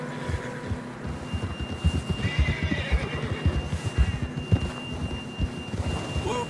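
A horse whinnying in Red Dead Redemption 2 on a narrow trail, its neigh rising over a busy rumble of hoofbeats and ambient noise, fairly close and moderately loud.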